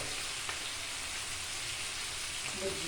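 Ginger, tomato and chili hitting frying cauliflower in a pan, giving a continuous dense sizzle throughout at moderate level, with faint background noise.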